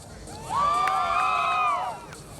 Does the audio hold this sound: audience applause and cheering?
yes